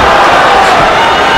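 A boxing crowd at a championship fight in an arena roars and cheers in a loud, dense, continuous wash of voices.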